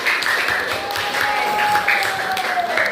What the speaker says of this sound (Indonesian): Silakan kasih tepuk tangan buat teman-temannya.